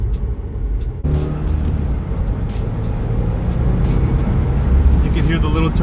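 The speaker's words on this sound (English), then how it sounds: "You can hear the little turbo. It's a cute turbo, bro." A Subaru WRX with a six-speed manual and STI short-throw shifter, a small turbo spooling up under a steady engine drone, while people talk nearby.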